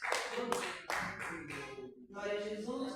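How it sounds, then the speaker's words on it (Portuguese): A church congregation clapping in rhythmic bursts, close and moderately loud, with a brief gap and voices mixed in. "Vamos receber a irmã Penha com palmas alegres para o Senhor Jesus."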